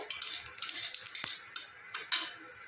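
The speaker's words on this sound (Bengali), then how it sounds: "এখন কড়াইটা গরম হয়ে গেছে দিয়ে দিচ্ছি অল্প তেল তেলটা গরম হয়ে গেছে তেলের মধ্যে দিয়ে দিব আমি কয়েকটা কালো জিরে" Nigella seeds dropped into hot oil in a wok give a few short crackles, while a utensil clinks and scrapes against the metal in sharp, irregular taps close by.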